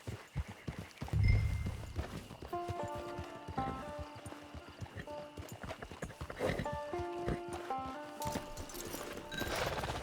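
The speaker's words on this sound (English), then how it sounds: "It's your horse." A horse walks with steady clip-clop hoofbeats on the way into a camp, close and fairly loud, with occasional snorts and light movement around it and no clear talk.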